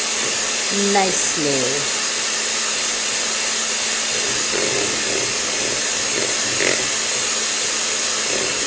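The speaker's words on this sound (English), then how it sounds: "We'll just use the hand mixer and mix all that together" An electric hand mixer whirs at a steady, even pitch as it beats deviled egg filling of yolks and creamy mix, running through the whole stretch while a voice speaks briefly over it.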